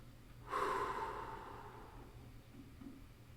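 One deep, audible breath during a breathing exercise, a sharp rushing inhale that fades into a long, softer exhale, close and alone with no talking.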